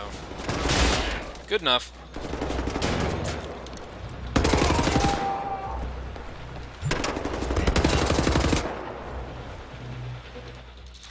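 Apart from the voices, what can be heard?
LKW gunfire in video game Wolfenstein: The New Order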